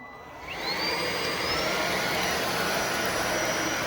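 An iXlion cordless vacuum cleaner with a spinning brush runs over a low pile area rug, its whine ramping up to a steady loud whooshing roar with a high tonal whistle, close and continuous.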